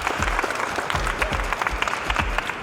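Several people clap together in a quick, uneven burst of applause, close and moderately loud, with no talking.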